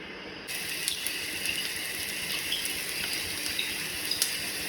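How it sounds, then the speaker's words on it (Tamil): Sliced onions fry in a pan, the oil sizzling and crackling steadily, with small sharp pops scattered over the continuous hiss. "எண்ணெய் ஊற்றினதுக்கப்புறம் நம்ம வெங்காயம் போட்டுக்கலாம்"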